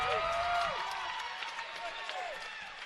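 A college wrestling crowd at Lockhart Arena, Stanford at Utah Valley, claps and cheers in a steady wash of applause beneath a commentator talking.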